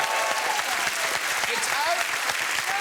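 Television studio audience clapping on a chat show, a dense, even wash of applause throughout, with a voice talking over it.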